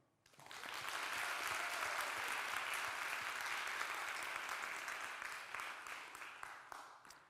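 An audience in a graduation ceremony hall claps steadily for welcomed online guests, a dense, loud wash of applause that swells quickly, holds for several seconds and thins toward the end.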